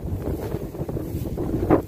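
Wind gusts buffet a microphone outdoors, giving a low, rough rumble that swells and dips unevenly for about two seconds and peaks in a strong gust near the end, with no voices.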